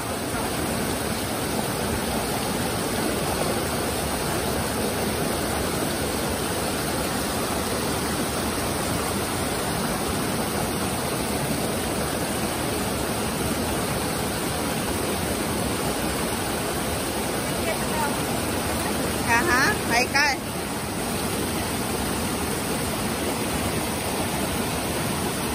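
A river flows in El Salvador as a constant loud rushing wash that holds steady throughout, with a brief faint disturbance near the end.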